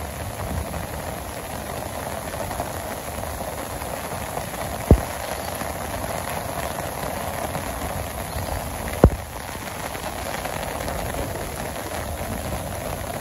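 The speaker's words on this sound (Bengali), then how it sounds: "খুব সুন্দর বৃষ্টি হয়েছে।" Rain pours steadily over a village in Bangladesh, an even broadband hiss of drops with two sharp close taps standing out briefly, no talking.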